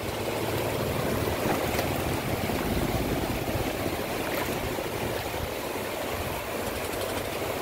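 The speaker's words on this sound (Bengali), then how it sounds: "এই যে মাছ ধরার ট্রলারটা চলে আসলো, খুবই কাছাকাছি চলে আসছে," A fishing trawler approaches close to the shore at Enani sea beach, Cox's Bazar. A low engine drone blends into continuous loud wash of waves and wind, steady throughout with no talk.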